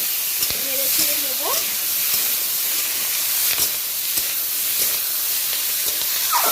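Chopped tomato dropped into hot oil for a Bengali rohu fish curry with spring onion and potato, giving a steady broadband sizzle and hiss throughout with a few brief scraping clicks.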